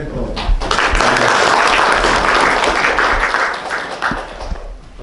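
Applause for a foundation director at a book launch concert, a dense burst of many hands clapping from an audience that swells quickly, holds for several seconds and tapers off.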